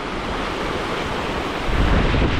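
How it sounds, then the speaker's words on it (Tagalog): Strong seawater rushes and churns at a fishing spot, a dense, continuous wash of noise that swells louder near the end, with no voices. "Lakas po ng tubig po dito."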